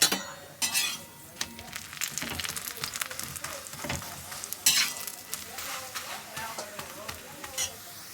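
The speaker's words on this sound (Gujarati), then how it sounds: "હું હમણાં શેકીશ થેપલા" Gujarati thepla flatbread roasts on a hot pan with a crackling sizzle, punctuated by sharp scrapes and clinks of a utensil against the pan, close and uneven.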